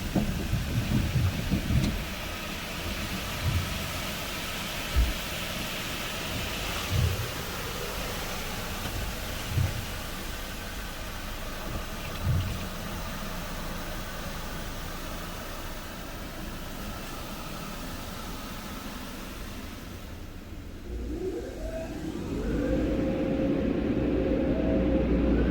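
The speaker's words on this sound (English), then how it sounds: "Here comes the Airstream dryer." An Airstream dryer in an automatic car wash blows as a steady, loud broadband roar with faint thumps at first, then the blast intensifies and shifts near the end as the blowers move over the car.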